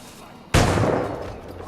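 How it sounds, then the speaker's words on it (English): Grenade going off in Assassin's Creed IV Black Flag, a sudden loud blast after a quiet moment that rolls into a fading rumble, with no one talking. "Wait for that grenade to go off quickly."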